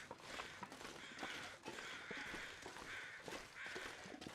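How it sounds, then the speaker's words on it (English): Crows cawing in the survival video game The Long Dark, several harsh calls repeating over a steady wind-like background, moderately close, with no talk. "Those do sound like morning migrating crows"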